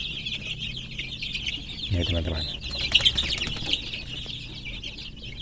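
KUB chickens clucking and cackling in a farmyard, with a brief burst of louder calls midway, while someone speaks over the scene.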